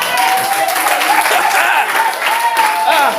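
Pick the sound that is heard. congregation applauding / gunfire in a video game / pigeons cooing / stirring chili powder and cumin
congregation applauding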